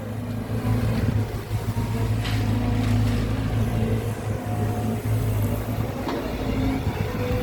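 A CAT 320 GC excavator works crushed rock while loading a dump truck, its engine giving a close, steady droning groan with a thin whine on top and a few faint knocks, with no voices.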